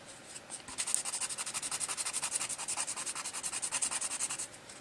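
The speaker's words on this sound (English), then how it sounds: "this is a much finer grit, and I'm just smoothing it down." A fine-grit nail file is drawn back and forth across a fingernail, about two dozen quick, even rasping strokes in a steady rhythm, close and faint.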